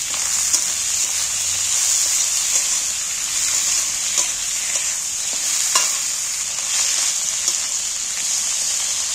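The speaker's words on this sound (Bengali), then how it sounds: "এটা পেঁয়াজের সঙ্গে ভালো করে কষিয়ে ভেজে নেব, নেড়ে নেব।" Chopped onions fry in hot fat with a steady, bright sizzle, punctuated by occasional soft knocks and scrapes of a spoon stirring the pan, close and constant with no talking.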